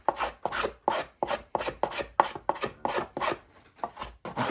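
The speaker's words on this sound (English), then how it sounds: "I'm going to do this with a thumb plane." Thumb plane shaping the timber bass bar of a violin, a steady run of about a dozen close, raspy shaving strokes in an even back-and-forth rhythm, with no talking.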